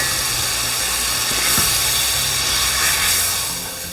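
Water poured into a hot pan of toasted semolina while making halwa, a loud broad hissing sizzle that swells and eases in two surges before fading slightly, no talk.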